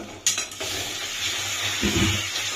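A spice mixture with tomato paste fries in oil in a pan for Gobindobhog rice khichuri, hissing and sizzling steadily, with a clinking scrape of stirring and a louder sputter near the end.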